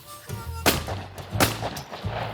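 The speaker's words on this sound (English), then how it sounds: "Nice. Second shot." Shotgun blasts during a bobwhite quail hunt in the field, two sharp loud reports about three quarters of a second apart, with lighter noise and a low rumble between them.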